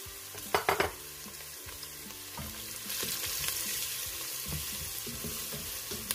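Onion frying in a pan with turmeric, spices and salt, a steady close sizzle with a few sharp clatters near the start and the frying growing louder and fuller partway through.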